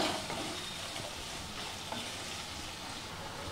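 Chopped carrots, potatoes and tomatoes are stirred together in a pan for vegetable pulao, a soft, continuous scraping and low sizzle heard close up at a quiet level.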